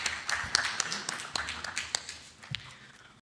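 A conference audience at a European economic forum in Uzbekistan claps for a speaker: sparse, scattered hand claps, fairly close and light, tapering off after about three seconds, with faint voices in the room.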